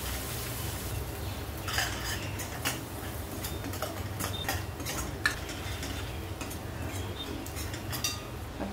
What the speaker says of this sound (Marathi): चांगलं मिक्स करून घेऊया.